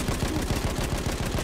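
Rapid gunfire in the video game Battlefield 1, a dense stream of fast shots blurring into a continuous rattle at steady loudness, with no voices.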